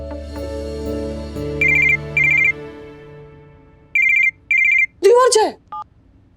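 A telephone rings in two pairs of bright electronic trills, loud and close, over a low musical background, followed by a brief voice.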